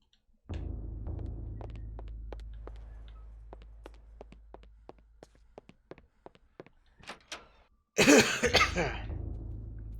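A person coughs in a sudden loud burst near the end, after a run of soft, evenly spaced knocks in a quiet room.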